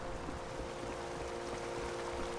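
Steady rushing water from a waterfall in a gloomy fantasy realm of the Fae in a cozy video game, a constant broadband roar that stays level and continuous throughout with no voices over it.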